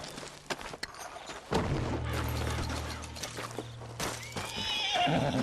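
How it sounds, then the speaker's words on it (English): Spooked horse in the Red Dead Redemption 2 video game, a loud whinny followed by snorts and hoof clops, with mechanical clicks and rattles nearby. "What's got this horse spooked, huh?"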